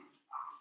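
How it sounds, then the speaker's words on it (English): A dog barks once or twice up close, a short burst then a longer sustained yelp, with a lighter vocal sound before it in a quiet room. "So the window's open and the dogs start barking."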